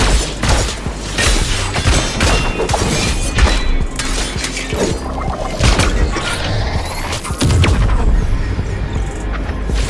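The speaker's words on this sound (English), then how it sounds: "Multiple detonations detected." Explosions and detonations in the fighting game Coreupt, with dense booms and shattering crashes running continuously and loudly throughout, layered with game effects.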